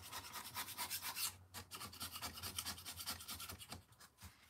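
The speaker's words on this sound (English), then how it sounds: "this little scraper was just from Walmart in like the, I don't know, automotive and tool area" A small hand scraper bought from a tool aisle rasps across a painted sign on MDF in a steady run of short, close, scratchy strokes with brief pauses near the end.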